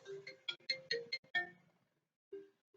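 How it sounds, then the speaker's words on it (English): A phone ringtone plays a quick series of bright electronic beeps, then pauses and gives two more tones. It is fairly close and clear, with no talking over it. "oh, this phone, sorry"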